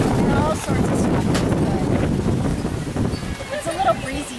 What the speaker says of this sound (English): Wow, it got really windy just now, and stuff is flying all over.